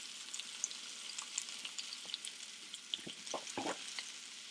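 Food cooks quietly in a pan, a soft continuous crackle and sizzle with scattered small pops and a few light clicks near the end.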